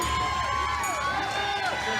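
A large crowd cheers and whoops loudly and without a break, with many overlapping shouting voices.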